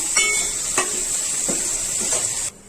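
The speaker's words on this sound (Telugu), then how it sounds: "ఇది పచ్చివాసన పోయేంత వరకు వేయించుకున్నాము" Curry leaves and coriander frying in a pan for chicken dum biryani, a bright hiss of sizzling oil with a few spatula clinks, close, cutting off abruptly near the end.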